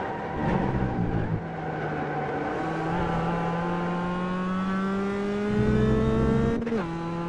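A Mazda MX-5 Roadster race car engine at Laguna Seca in the iRacing game drones steadily and rises in pitch as it accelerates, loud and close, with a brief gear-shift dip near the end.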